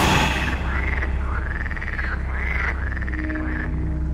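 Frogs croak in a repeated series of rising, warbling calls, close and clear over a low steady background hum, heard as part of a spooky narrated tale.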